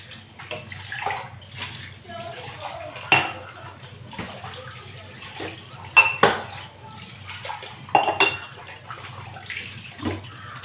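Dishes and vessels are washed in a small sink with liquid soap, giving scattered clinks and clatters of metal pots alongside running water, while a person talks quietly.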